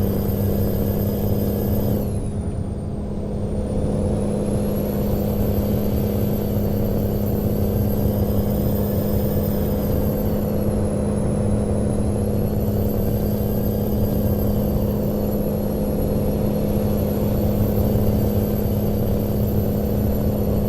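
A Kenworth truck engine in the American Truck Simulator game accelerates with a steady mid-pitched drone, rising and falling gently in pitch as it revs, loud and continuous with no talking.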